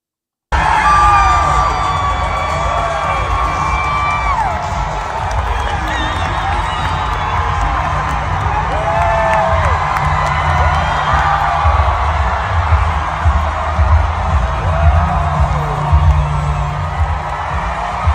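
A large outdoor rally crowd in Nampa, Idaho cheers and whoops steadily, a loud dense roar with scattered shouts and whistles carrying on throughout.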